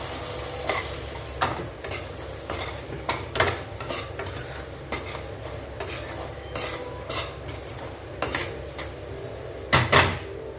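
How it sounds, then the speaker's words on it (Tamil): A vegetable pickle with oil and food vinegar bubbles and sizzles in a pan on the stove, with steady low frying hiss and repeated sharp scrapes and clinks of a spoon stirring against the metal, loud and close. "இப்போ கொதி வர ஆரம்பிச்சாச்சுங்க"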